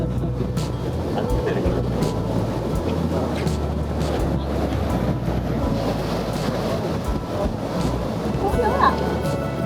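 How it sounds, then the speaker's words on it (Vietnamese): Ocean waves wash onto the beach at Nha Trang, a continuous loud surging roar that runs the whole time with a voice speaking over it. "Nghe tiếng sóng biển nữa."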